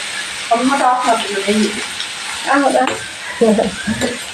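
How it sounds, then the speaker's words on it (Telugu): Grated bottle gourd fries in ghee with a steady, bright sizzle and occasional stirring, while a voice talks over the cooking throughout. "సొరకాయ తురుము వేసుకున్నాము నెయ్యిలో"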